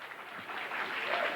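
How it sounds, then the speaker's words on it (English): Audience applause for the band at a 1997 Southbridge Optimist Club variety show, a steady wash of clapping from a crowd that swells slightly toward the end. "How about a round of applause for the band?"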